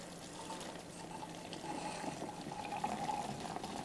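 Watery liquid supernatant poured off wastewater sample tubes in a lab, a faint, steady trickling splash lasting a few seconds with no voices.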